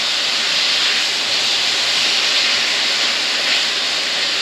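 Garlic sautés in a pan on the stove, a loud steady sizzling hiss that holds evenly throughout without any talk.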